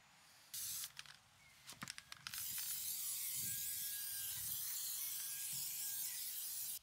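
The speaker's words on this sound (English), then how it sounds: "I paint the front blue brackets gray to blend them with the gray covers" Aerosol spray paint hisses onto 3D-printed front brackets of a Mercedes cornering light, in short close bursts at first and then in a longer, steady spray.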